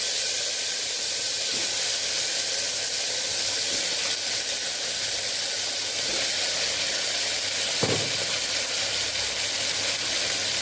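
Steady, dense hiss of potatoes frying in hot oil fills the whole stretch, loud and continuous, with a faint clunk near the end and no talking.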